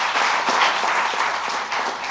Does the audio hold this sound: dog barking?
no